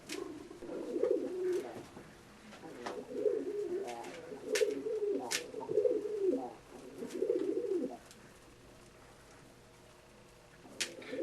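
A short-beaked Budapest pigeon hen, a yellow six-time champion, coos in repeated low rolling phrases close by, with a few sharp chirps from other birds above and a quiet stretch near the end.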